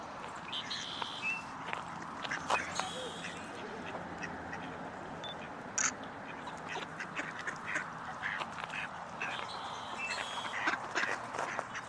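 Ducks on a wintry duck pond with bulrushes quack repeatedly in scattered, overlapping calls at moderate distance over a steady outdoor background.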